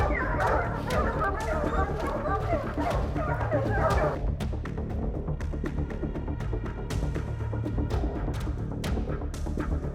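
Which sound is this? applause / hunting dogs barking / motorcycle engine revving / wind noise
hunting dogs barking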